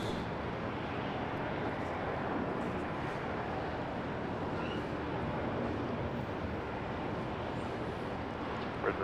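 Qantas Airbus A321XLR at Brisbane Airport producing a steady, broad engine roar that holds at an even loudness throughout, with no voices.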